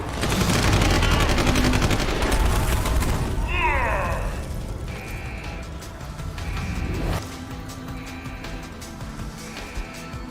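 Gunfire from a firefight in the video game Deus Ex: Human Revolution, dense and loud at first, then thinning to scattered shots and mechanical bursts over a steady din of game noise.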